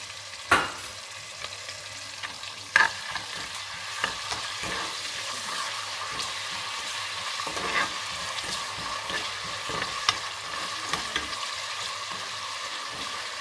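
Ginger garlic paste fries in a pan with a steady sizzle, broken by a few sharp spoon scrapes and clinks as it is stirred, close and without talk.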